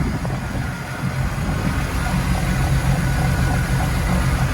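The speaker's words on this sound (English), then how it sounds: "Engine's running nice and smooth" A boat's inboard Mercruiser 4.3L engine on a Bayliner 185 Bowrider idles evenly, a steady low continuous rumble with no pauses.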